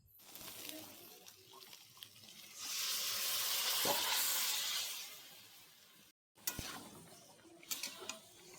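Boiled papaya and bottle gourd hit hot oil in a pan for hilsa shukto, a steady close sizzle swelling loud through the middle, then a brief cutoff and renewed crackling with a few sharp stirring clatters.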